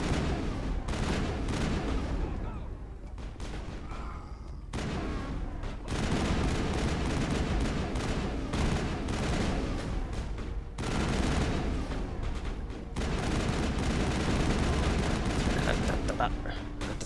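Sustained gunfire from a Mass Effect firefight, dense bursts of sci-fi weapons rolling on for most of the stretch with brief lulls, loud and close, with game effects mixed in and no clear talk over it.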